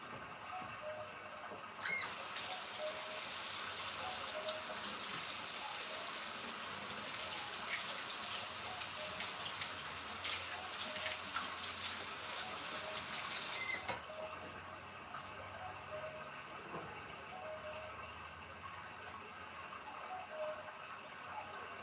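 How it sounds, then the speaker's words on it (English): A tap runs loudly for about twelve seconds while hands are washed beneath it, a steady close gush that stops abruptly, followed by quieter room sounds. "Gonna wash my hands."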